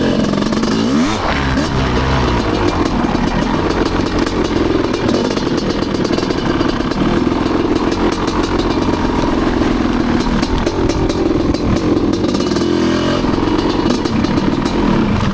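A Honda CR500 two-stroke motocross bike roars at night under lights, loud and close throughout, its engine rasping and shifting pitch as the rider accelerates and holds speed, with no speech.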